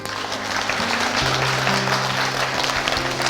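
A crowd applauding steadily and loudly, dense clapping filling the whole stretch with a low tone humming underneath.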